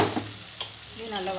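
Onion and tomato paste being sautéed for kadala curry, with a soft stirring scrape and a brief spoon knock over low steady frying; no talk.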